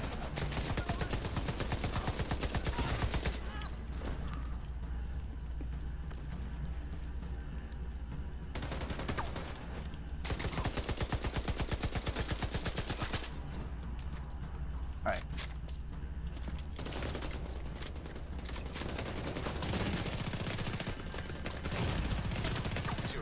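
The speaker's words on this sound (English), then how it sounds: "Where am I getting shot from?" Video game gunfire in the Black Tusks Tidal Basin Stronghold mission comes as long stretches of rapid automatic fire with short lulls between them, steady and dense, while a player talks over it.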